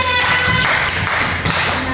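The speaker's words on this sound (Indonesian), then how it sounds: "kita saling tepuk tangan untuk kita semua" A primary school class in an Indonesian language lesson claps together, a dense, loud burst of hand clapping from many children filling the moment at close range.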